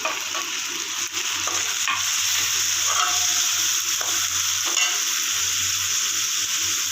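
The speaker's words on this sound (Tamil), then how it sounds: "இப்போ காய் கொஞ்சம் நல்லா வதங்கட்டும்" Chopped vegetables sautéing in a pan for Korean-style Maggi noodles, with a loud, steady sizzle of frying and a few soft knocks of a spatula stirring, close up and without speech.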